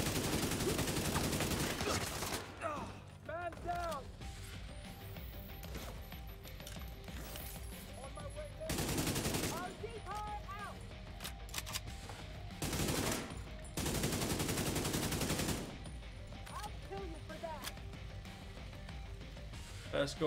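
Rapid automatic gunfire in The Division 2 played on PC, dense bursts of shots crackling through the scene, loudest in a few sustained volleys, with someone talking over the shooting.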